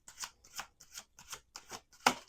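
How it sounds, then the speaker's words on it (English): Several quick riffling bursts of tarot cards being shuffled, evenly spaced about every half second, with a sharper, louder final snap. "Last shuffle."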